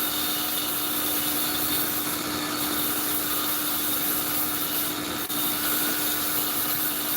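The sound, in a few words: belt sander polishing a knife handle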